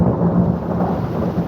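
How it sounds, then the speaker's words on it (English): Thunder from a lightning strike close by during a storm, a loud, dense rumble that fills the whole short stretch, with rain mixed in and no talk. "Did you hear that lightning?"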